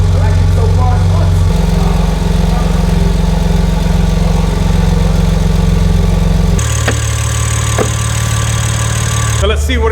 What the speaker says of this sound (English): That's how an M3 should sound.